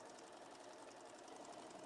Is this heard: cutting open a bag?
no